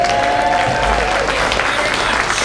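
Festival audience at Shrewkfest 2022 gives a ukulele band a loud, rousing round of applause, a thick continuous roar of clapping with whoops rising over it.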